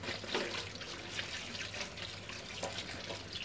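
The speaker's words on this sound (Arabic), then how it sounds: "تحت الحوض بقى في المية كده هنزل عليها بالمية بتاع الحنفية بالمية الجارية كده، اغسلها كويس جدا." Running tap water splashing over okra in a kitchen sink, a steady close wash with a faint low hum underneath.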